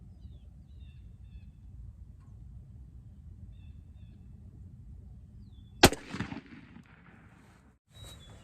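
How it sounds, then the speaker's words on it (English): A 20 gauge over/under turkey shotgun firing a Winchester Longbeard number 6 shell at 15 yards outdoors: one sharp, loud blast cutting through a quiet background of faint breeze and distant bird calls, followed by a short fading echo. "I'm gonna shoot first the Winchester Longbeard number 6s."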